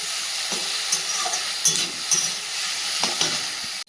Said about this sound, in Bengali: আলু পোস্ত ভাজা হয়ে গেছে